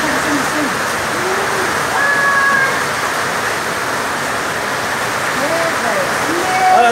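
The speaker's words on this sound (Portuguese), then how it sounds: "Não é a vertentinha que tá descendo assim?" A small trickle of water runs down a slope in a dry, rainless spot, a steady broadband wash of flowing water, fairly close and continuous, with a few faint voices and bird-like chirps over it.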